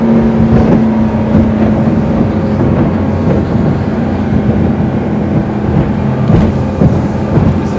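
A 23-foot Sea Ray SPX 230 outboard bow rider running fast, its engine a loud, steady drone blended with rushing wind and water buffeting that keeps roaring with small swells throughout, no talking.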